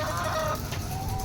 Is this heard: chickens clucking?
yes